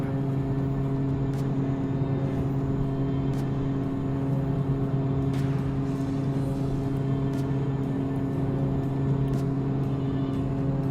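The Evector EV-55 aircraft engine in X-Plane 11 drones steadily in a continuous, even cockpit hum with a few faint clicks, with no speech.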